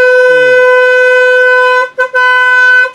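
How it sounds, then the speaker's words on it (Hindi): A Yamaha Aerox 155 scooter's fitted aftermarket horn gives a loud, sustained blast with a bright buzzy tone, briefly cut off near the end and then resuming. "ये इसके अंदर हॉर्न है जो कि लगा दिया गया है, इसकी साउंड आपको मैंने चेकआउट करा दी है"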